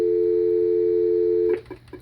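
A Nortel Networks Norstar phone gives a steady electronic tone for an incoming outside call, holding about a second and a half, then breaking into a few short pulses.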